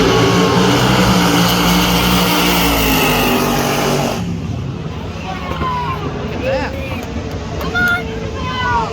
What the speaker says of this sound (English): Big burnouts, you gotta love that.